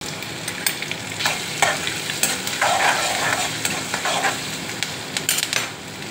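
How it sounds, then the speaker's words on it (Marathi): Cumin, green chili, curry leaves, ginger and garlic frying in hot oil, a steady close sizzle with a few bursts of louder crackling and spoon stirring throughout. "आता यांना भाजून घेतो।"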